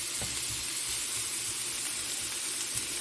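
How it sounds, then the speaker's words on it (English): Steady, close sizzling of onions frying in a hot cast iron pan, a continuous hiss with faint crackles and no voices. "hear the sizzle"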